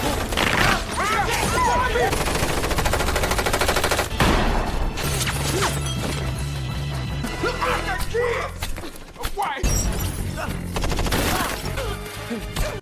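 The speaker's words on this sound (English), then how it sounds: "the man suddenly shot Jack, and a shootout ensues" Movie shootout gunfire, rapid bursts of automatic fire and single shots mixed with crashes, booms and a swelling score, loud and dense throughout with voices occasionally heard.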